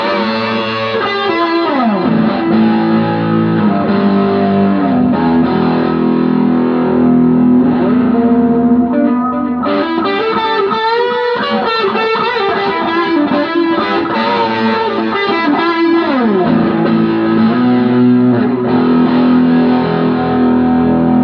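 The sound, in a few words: guitar through Joyo D-seed delay pedal with overdrive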